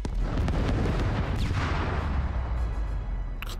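A big explosion in the Ratchet & Clank video game: a loud, sustained rumbling blast with dense low-frequency boom and crackling debris rolling on for several seconds, no talk over it.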